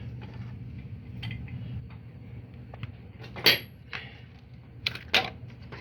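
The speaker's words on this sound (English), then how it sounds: "So now I can loosen the clamp off, loosen the other one." Wood clamps loosened after a glue-up, a few soft knocks and scraping clicks over a low hum, quiet and close.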